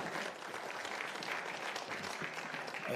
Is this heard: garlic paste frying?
no